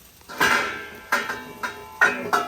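A metal lid set onto a pan of stir-fried pork with snow peas cooking over medium-high heat, giving several ringing clanks and rattles spread over a couple of seconds with no voice.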